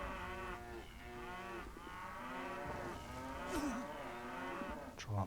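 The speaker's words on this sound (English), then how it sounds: "Try not to upset the cows too much." Several cows lowing in long, drawn-out moos one after another in the strategy game Men of War Assault Squad 2, loud and steady over quiet battlefield background noise.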